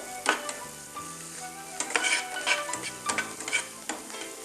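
Green chillies sautéing in a pan for bread pulao, a soft sizzle broken by repeated scraping stirs of a spoon against the pan, close and fairly quiet.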